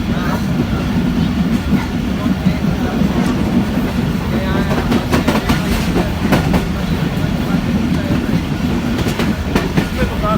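A fast train in Pakistan rumbles loudly and steadily with continuous clickety-clack from the wheels, heard from inside the carriage with some voices in the background.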